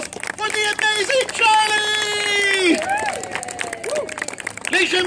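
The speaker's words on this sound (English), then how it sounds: "could I get a huge, a massive, wonderful round of applause" Street show audience at a Charlie Chaplin festival bursting into loud, sustained applause and cheering with whoops, close and dense, while a performer's voice carries over the crowd.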